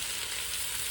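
Garlic and onion sizzle steadily in a hot pan for Filipino pancit, a close, even crackle of frying with no break.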